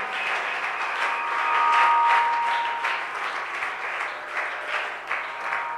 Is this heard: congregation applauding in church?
yes